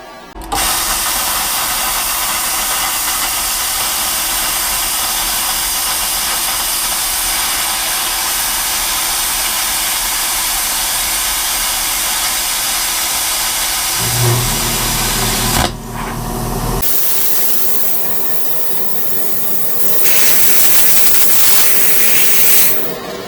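A 55 amp dual-voltage IGBT inverter plasma cutter cutting 1/4 inch plate steel, a loud steady hissing roar that runs unbroken, cuts off abruptly, then resumes as a rougher air blast.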